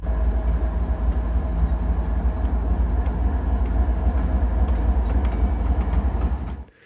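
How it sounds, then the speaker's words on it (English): A pair of BNSF GE Evolution series locomotives moving through a rail yard, a loud, steady rumble with faint rolling and clanking noise that cuts off abruptly at the end, with no voices. "Looking back over the bridge, that pair of Gevos was heading back into the yard to do something I don't know."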